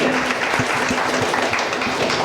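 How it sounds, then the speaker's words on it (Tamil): Audience clapping at a two-day spiritual convention session, a steady broadband patter of applause filling the whole moment at even loudness, with a faint voice murmuring underneath. "ஒரு கைத்தட்டல் கொடுத்துடலாம்."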